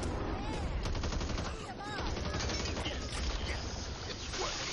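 Dense, continuous rapid gunfire from the zombie shooter video game Back 4 Blood, loud and sustained throughout with rattling automatic bursts and faint voices underneath.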